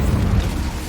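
A Confringo and Incendio spell blast in Hogwarts Legacy, a loud, heavy low rumbling burst that fills the whole brief moment without letting up.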